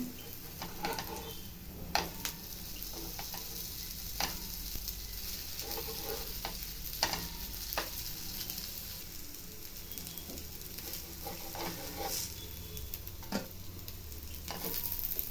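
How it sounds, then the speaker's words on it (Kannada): Raw banana and potato cutlets frying over medium heat in a pan, a soft continuous sizzle with occasional light taps and clicks throughout. "ಈಗ ಮೀಡಿಯಮ್ ಉರಿಲಿ ಎರಡು ಸೈಡು ಬ್ರೌನ್ ಆಗೋ ಬೇಯಿಸ್ಬೇಕು"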